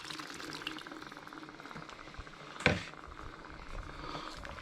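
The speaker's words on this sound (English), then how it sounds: "Now, I've got here about a cup of water, and I'm just going to add that in." Roughly a cup of water poured into a chicken and strawberry korma sauce simmering in a pan on medium heat, giving a soft sizzling bubble throughout and one brief sharp splash midway, fairly quiet and with no talking.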